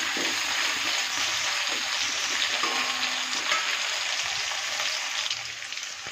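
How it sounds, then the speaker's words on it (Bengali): Potatoes fry in hot oil in a pan with bay leaves, browning until reddish. A steady, dense sizzle fills the whole stretch at close range, with no talking. "এই যে আলুটা ভাজা হচ্ছে"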